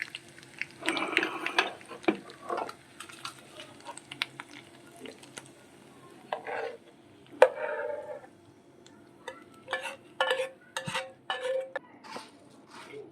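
Masala is stirred into puffed rice in a pan with soft, scattered rustles, scrapes and light clinks of a spoon against metal, quiet and close with gaps between strokes.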